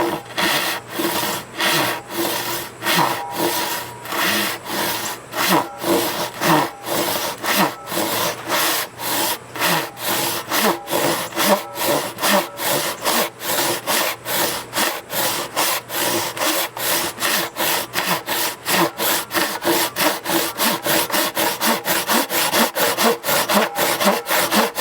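A Japanese pull saw rips along timber in fast, rhythmic rasping strokes that start slower and quicken into a steady, close, regular sawing cadence, with no voices.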